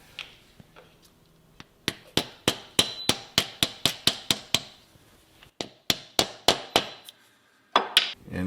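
Hammer blows drive a steel button press die down into stock clamped in a vise, a rapid series of about twenty sharp metallic strikes in a steady rhythm, close and loud, with short pauses between bursts.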